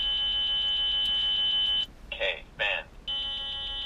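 A Beltronics GT-360 radar detector sounds its alert: a loud, steady, buzzy electronic tone that breaks for about a second with two short warbling chirps, then resumes at the same level.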